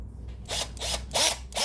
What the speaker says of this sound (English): And these two holes I'm drilling